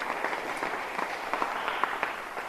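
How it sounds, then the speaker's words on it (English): Audience applause for students at a youth hunger crusher award event, a brief, even patter of many hands clapping in a room. "So first of all, round of applause for you guys."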